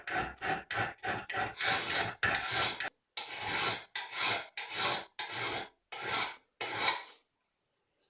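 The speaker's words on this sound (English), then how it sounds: "I'm almost done getting the whole blank filed out." Hand file rasping across a steel knife blank, a run of about a dozen rhythmic strokes close up, quicker at first, then slower and more spaced, ending in silence.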